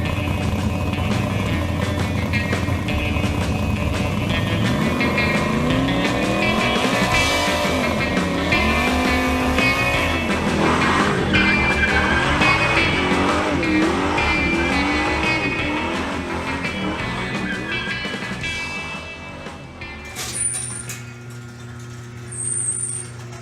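A 1962 Studebaker Lark Cruiser engine runs loud and close, its pitch rising and falling through repeated revs before settling lower and fading toward the end, with no talking.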